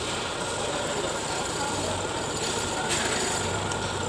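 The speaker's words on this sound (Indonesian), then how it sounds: "Oke, lalu kita hidupkan mesinnya." A car engine runs at a steady idle during a tune-up, with a constant low rumble and faint mechanical noise throughout and no talking.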